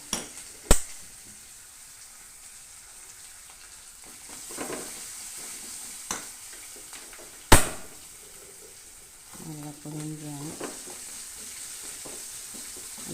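Puli inji, a sweet tamarind-ginger chutney, roasts and sizzles in a pan with a few sharp scrapes and clicks of stirring and one louder clatter, then a short bubbling burst near the end, no voices.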